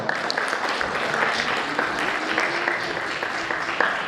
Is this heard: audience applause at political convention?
yes